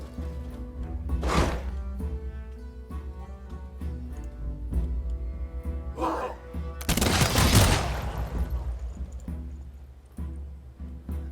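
Gunner units firing volleys in the Humankind strategy game: several sharp gunfire bursts, the biggest a loud sustained crackling volley, over a steady low game music bed.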